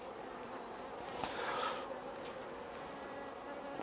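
Honey bees hum steadily around an opened hive during an inspection, a soft, continuous low buzz that swells briefly as some fly close, with no talking.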